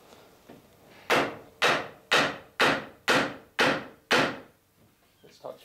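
Seven close, evenly spaced hammer knocks land on a wooden plank as it is tapped onto the stem of a small clinker-built boat, followed by a few quieter rustles.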